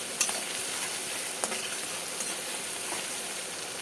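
Ground onion frying in hot oil while being stirred, a continuous close sizzle broken by a few scraping clicks of the spoon against the pan.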